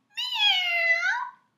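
A storyteller's voice imitates a cat's meow, one long drawn-out and rising-falling mew, close and clear, followed by silence.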